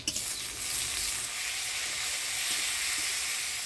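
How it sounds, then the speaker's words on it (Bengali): Chopped onion and tomato sizzle in a frying pan with cumin and bay leaf, opening with a sharp burst as they hit the oil, then a steady, even frying hiss close by. "পেঁয়াজটা হালকা লাল লাল করে ভাজি নিলাম, এবার দিয়ে দিব টমেটো কুচি"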